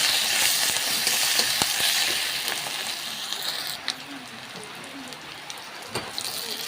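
Crushed ginger, garlic and chili fry in hot oil with a bright, steady sizzle that thins out midway, dotted with sharp pops and crackles.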